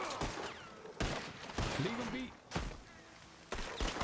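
Gunshots in a Red Dead Redemption 2 roleplay game, several sharp loud cracks spaced about a second apart, heard under tense shouted talk.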